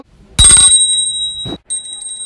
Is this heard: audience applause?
no